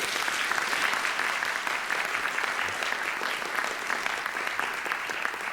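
Sustained applause from an audience at a climate forum round table, a dense, even roar of many hands clapping continuously without pause, fairly distant and steady throughout.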